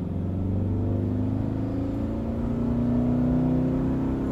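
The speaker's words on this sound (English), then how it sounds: "You hear it? That's exhaust is really loud." A car with a 5.3L engine pulls away from a stop, its loud exhaust rising in a steady, droning rumble that climbs in pitch as it accelerates, close by and with no talking.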